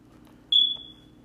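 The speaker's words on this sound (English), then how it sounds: "That beeping noise is driving me insane." A single sharp, high electronic beep sounds once, loud and close, over a quiet low hum.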